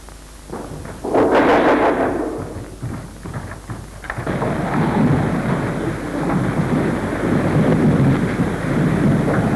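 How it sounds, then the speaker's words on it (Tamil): Thunder cracks and rolls loudly near the start of a rainstorm in a Tamil drama, then gives way to heavy, steady rain that hisses continuously, with no voices. "மின்னல் ஒரு பக்கத்திலே, இது ஒரு பக்கத்திலே. ஐயோ, மழை பெய்கிறது."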